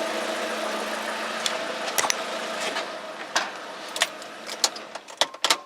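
A Chevy Aveo with a newly installed head gasket and an overheating problem idles with a steady low hum, broken by sharp clicks and knocks that get louder toward the end.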